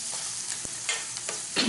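Glazed carrots with garlic, bourbon and plenty of parsley being turned over in a hot pan, a close sizzle with a few soft spoon scrapes and a sharp tap, no talking.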